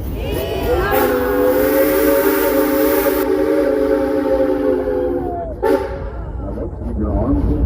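An Ozark tourist train rumbling along with a long, loud multi-tone whistle blast sustained for several seconds, heard up close over steady rolling noise, with voices of people on board.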